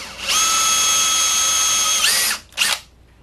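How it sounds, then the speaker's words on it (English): A power drill bores through a router base plate, a loud close whine held steady for about two seconds, then a pitch shift, a stop and a brief second burst. "So what I did was I basically just drilled through."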